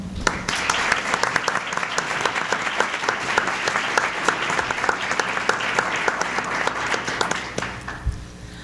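Sustained, loud applause from a conference audience welcoming former Mexican Foreign Minister Dr. Jorge Castaneda to the stage, steady dense clapping that fades out near the end.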